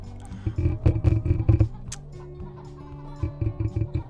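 Chicken clucks from the mobile game Egg Inc repeat in quick bursts over a steady musical backing, loud and close, with a short pause midway before the clucking resumes.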